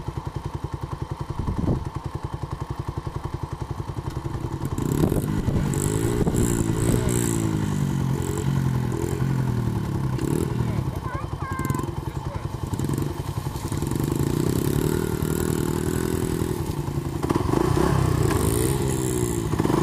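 A dirt bike engine runs close by with a steady, rough motor drone that swells in level partway through, broken by a few thumps and clatters, while a person talks over it.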